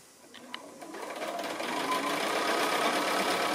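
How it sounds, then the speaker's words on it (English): A sewing machine joins three rows of a house sampler quilt block. It starts with a few clicks, then builds into a steady, close mechanical whir that runs to the end. "Just finishing off sewing the 3 rows together."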